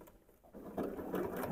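A sewing machine stitches a Christmas tree fabric panel, starting with a soft pause and then settling into a quick, close, rhythmic mechanical chatter of moderate loudness, with no talk over it.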